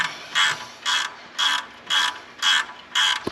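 A ratchet wrench cranks while a turbo is removed from a 2017 Ford 6.7 Powerstroke diesel. Six evenly spaced bursts of crisp clicking ring out up close, with short pauses between them and no talking.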